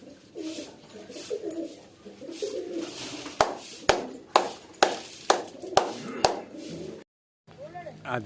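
Racing pigeons at a loft in Odisha during a Khorda summer pigeon tournament, soft cooing under a spoken voice, then a run of sharp regular taps or claps near the end before a brief silence.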